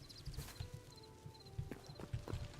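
Skeleton horse hooves clopping in the video game Hytale, a steady rhythmic clip-clop of moderate loudness over ambient game background, with faint tonal chimes.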